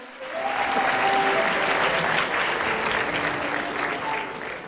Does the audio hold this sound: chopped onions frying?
no